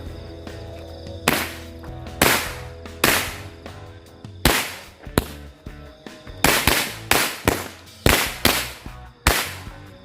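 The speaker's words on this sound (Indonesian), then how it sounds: "ini kita nyalakan satu gepok mercon korek" A bundle of mercon korek firecrackers goes off on a Ramadan night, a loud, irregular string of about fourteen sharp bangs, some spaced apart and others bunched in quick pairs, with no voices.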